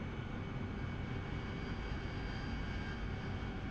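An AV-8B Harrier jet on landing approach in DCS, with a steady, faint engine roar holding constant throughout the moment without any talk.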